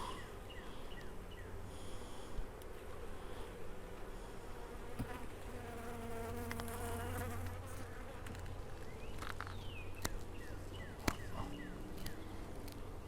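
Honeybees buzz in an open hive during an inspection, giving a faint, continuous hum with a few soft clicks and knocks from handling. No one talks.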